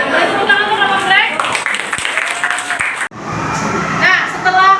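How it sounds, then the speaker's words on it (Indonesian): A classroom group of students applauds steadily for another group, with continuous clapping under a speaking voice, a brief break, then more clapping. "Tepuk tangan untuk kelompok Black"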